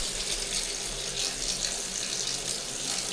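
Water gushes steadily from a tap, a close, even rushing stream that stays constant for a few seconds with no talking.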